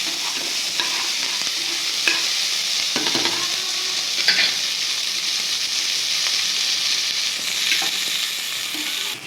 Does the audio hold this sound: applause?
no